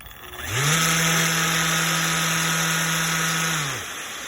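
Festool sander fitted with a 6-inch 150mm pad spins up quickly, holds a loud steady whirring hum for about three seconds, then winds down and stops.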